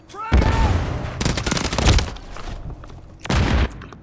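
Bursts of gunfire and a grenade blast in Call of Duty MW3 team deathmatch, loud rapid volleys that come in three separate clusters with pauses between them, while a player talks at times over the fighting.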